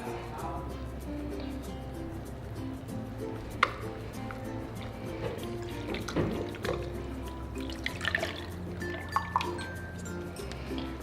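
Water runs and drips while conditioner is rinsed out of hair extensions, a steady wet trickle with a few sharper splashes under a low, continuous hum.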